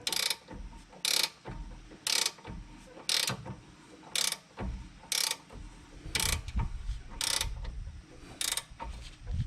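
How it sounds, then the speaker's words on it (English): A ratcheting wrench turns a bolt on a 2006 Nissan Altima brake, giving about nine crisp, evenly spaced bursts of clicking, close and clear, with quiet mechanical handling between them. "without one of these ratcheting wrenches, this would be a very difficult and time-consuming process because you absolutely cannot get a ratchet in there"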